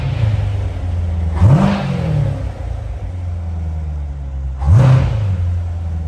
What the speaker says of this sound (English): I love the nice deep tone of the MPP exhaust.